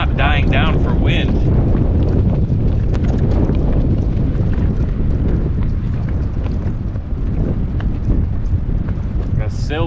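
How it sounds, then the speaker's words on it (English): Strong, steady wind roars across open water on a windy day out paddling, a constant loud broadband rush with gusts that swell and fade and no break for the full length. "these wind gusts come out of nowhere, and they're pretty strong"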